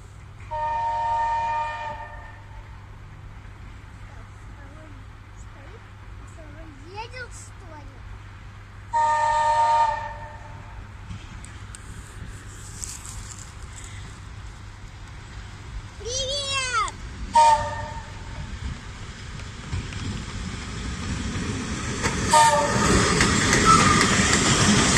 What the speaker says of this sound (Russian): Поезд едет, Рома.